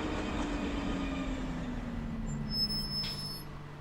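A train passing in the SimT video game, a steady low rumbling roll with a faint high metallic whine near the end, continuous and fairly close with no talk.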